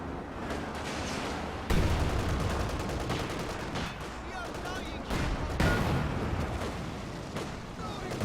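In Company of Heroes 2, an Su-85 tank destroyer fires its cannon at a Hetzer amid a dense, continuous din of battle, with heavy booms punching through around two and six seconds, a voice talking underneath.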